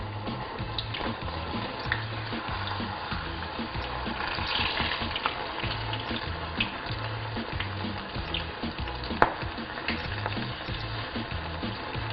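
Apple fritters in batter fry in hot oil with a steady, close sizzle that runs throughout, joined by a few faint clinks and one sharp tap near the end.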